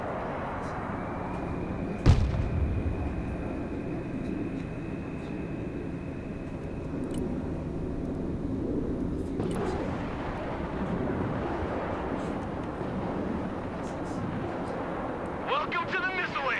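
MLRS rocket artillery firing in the video game Broken Arrow, a sharp launch blast followed by a long roaring rumble of rocket motors, with game radio voices talking over it.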